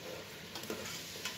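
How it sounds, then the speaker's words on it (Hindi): Chicken fries in a pan while a spoon stirs it, village style: a soft, continuous sizzle with a few light scraping strokes of the spoon, fairly quiet and close. "चिकन को अच्छी तरह फ्राई कर लेंगे। थोड़ी देर बाद चम्मच चलाते रहेंगे।"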